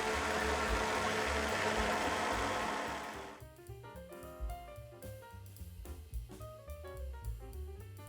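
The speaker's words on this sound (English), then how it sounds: "the sauce goes into a blender to smoothen the sauce" A blender roars loudly for about three seconds while blending pasta sauce, then stops, leaving quieter clinks and faint mechanical sounds.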